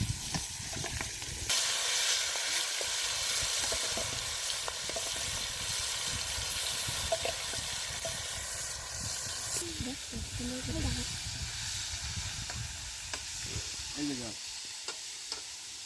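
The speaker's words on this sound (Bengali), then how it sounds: "একে একে মাছ ভেজে নিচ্ছি" Magur catfish fry in oil while cooking at a picnic: a dense, continuous sizzle and hiss close by, with occasional stirring scrapes and a faint bubbling texture.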